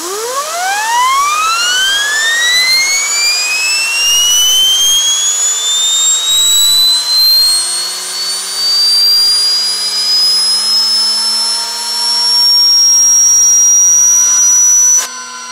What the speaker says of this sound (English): Now get ready to hear this wheel spin up.